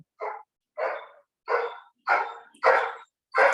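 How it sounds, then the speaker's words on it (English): A dog barks six times in an evenly spaced series, each bark short and fairly close, growing slightly louder toward the end, with silence between barks and no talking. "My dog is barking."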